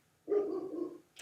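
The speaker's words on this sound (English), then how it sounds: "That is my German Shepherd." A German Shepherd gives a single drawn-out bark or howl lasting nearly a second, fairly close and clear, with a brief sharp sound right after.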